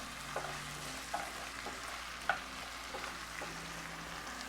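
Mushrooms and garlic get stirred in a frying pan, a soft, low sizzle under a few distinct utensil knocks and scrapes spaced about a second apart, close and without talk.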